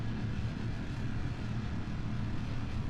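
A steady, low rumbling roar of a Kerbal Space Program rocket engine throttling up, a constant broadband drone with no breaks, moderately quiet and sustained.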